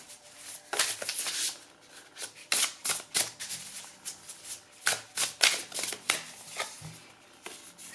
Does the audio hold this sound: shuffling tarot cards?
yes